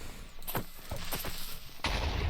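Creeper explosions in Minecraft, several sharp blasts in quick succession followed by a louder boom near the end, fairly close.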